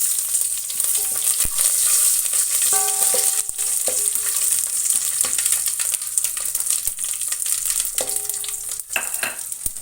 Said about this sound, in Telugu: తర్వాత కరివేపాకు, ఎండుమిర్చి, వెల్లుల్లి. ఇవి కొంచెం వేగాలి.